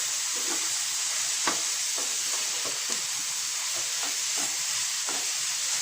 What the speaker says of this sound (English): When you fry it in this pan itself, you can get the flavor out.